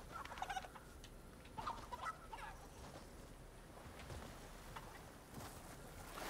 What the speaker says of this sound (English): Shut up, you chicken.